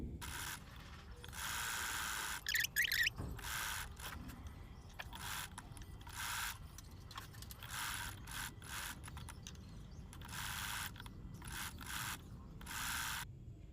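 A sewing machine stitches lace onto the edge of a saree blouse in short, repeated bursts of rapid whirring, separated by brief pauses and soft handling rubs, close and fairly quiet.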